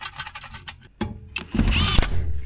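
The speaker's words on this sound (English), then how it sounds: "From the power tool. From the impact gun." Impact gun on a second-generation Ram 5.9 diesel, driving bolts tight in short bursts: a few brief rattling hits, then a longer, louder run of hammering up close.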